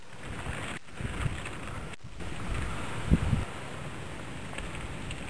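Gusty outdoor wind buffets the microphone in steady low rumbling bursts, with a few brief louder gusts and faint clicks of a lighter being struck.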